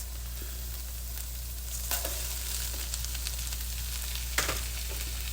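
Rice sizzles and fries steadily in a hot pan for pork chop and yellow rice, a constant close hiss broken by a few soft stirring scrapes and clinks.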